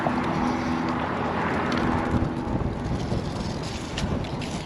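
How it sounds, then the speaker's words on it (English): Strong wind blows outdoors during a long walk near Banning, California, buffeting the microphone with a loud, rumbling roar that surges and eases slightly, with no voices. "It's so windy out"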